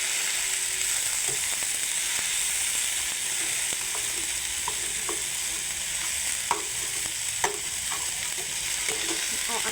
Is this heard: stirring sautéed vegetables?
yes